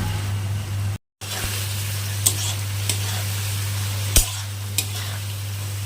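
Fenugreek greens with broken lentil dumplings fry in a pan with a continuous close sizzle, broken by a few sharp scraping knocks of stirring, over a low steady hum.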